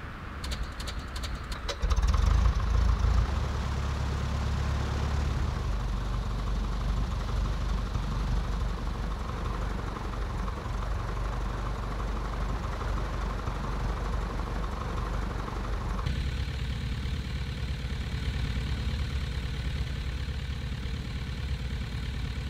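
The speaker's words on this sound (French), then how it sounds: "si je mets le moteur en marche" A vehicle engine, apparently from a simulator during an audio settings test on a Windows 10 computer, starts with a loud low burst and settles into a steady, continuous idle rumble that runs on for about twenty seconds, with no speech.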